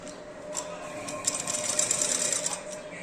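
A sewing machine runs steadily, stitching a half-inch seam along the edge of a silk pattu langa skirt, with a continuous close whir and a soft rhythmic clatter.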